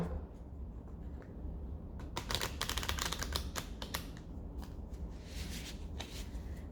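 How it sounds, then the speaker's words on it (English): A deck of cards riffled and shuffled at close range, with a quick burst of crisp flutters in the middle over a low, steady background hum. "One more shuffle."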